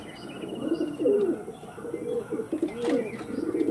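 A racing pigeon bred for long flights coos in soft, repeated low calls close by, with light chirps and faint rustling in the background.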